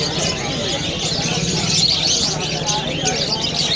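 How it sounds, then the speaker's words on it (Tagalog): Parakeets at a busy Malabon pet market chirp and twitter continuously at mid distance, mixed with crowd and street noise under the calls. "Ito yung mga ibon ni Kuya Jun, yan, mga parakit."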